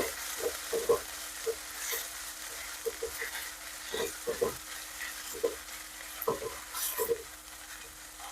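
Onions fry softly in oil while a utensil scrapes and stirs in irregular strokes, close by, with no talk.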